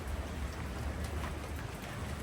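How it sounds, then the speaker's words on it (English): Steady rain pours down during Tropical Storm Kristine at a house in Antique, Philippines, a dense continuous hiss of drops on surfaces with no talk, close and even throughout. "Let's see what we can do before it starts raining hard."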